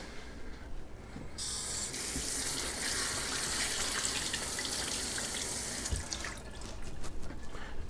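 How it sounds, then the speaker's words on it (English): Tap water runs steadily into a kitchen sink as fish slices are rinsed under it, a continuous close hiss of flowing water with small splashy changes, no voices. "And I'll rinse these off."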